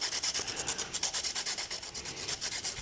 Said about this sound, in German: hier nochmal der Schleifblock, ja, wo du die Minen nochmal extra bearbeiten kannst